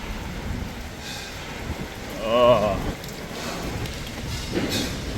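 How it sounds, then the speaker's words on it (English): Heavy rain falls on a city street in Seoul's Gwangjin-gu, a steady wash of patter and splashing. Passing traffic swells through it, and the noise peaks midway as a vehicle goes by. "today's a definitely heavy rainy day, man"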